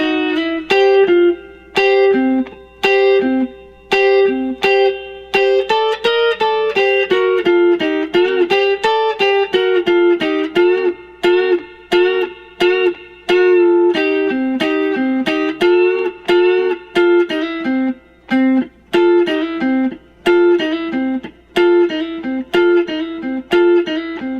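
An electric guitar plays a solo, a busy, steady run of bright picked notes and double stops with short gaps between phrases. It is loud and close, and no voice comes in.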